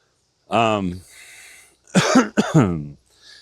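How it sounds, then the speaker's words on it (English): A person coughs several times nearby, a harsh throaty burst followed by a pair of rougher coughs, with no talking. "I got a little bit of a cough today."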